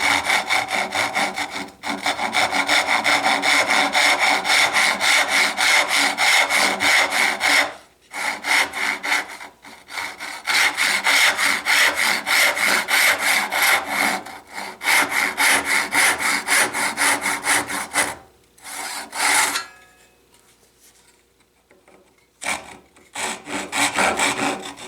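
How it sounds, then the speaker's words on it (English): A small dovetail saw rips through wood clamped in a bench vise, with steady rhythmic back-and-forth strokes that are loud and close, broken by a few short pauses before the cutting trails off near the end. "I'm going to do that right here in the bench vise using my little dovetail saw."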